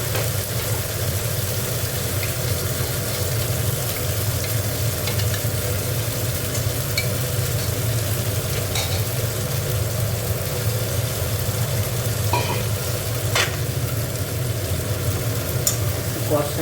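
Potato and cauliflower curry stir-frying in a pan, a steady close sizzle and hiss throughout with faint clinks of stirring, no talking.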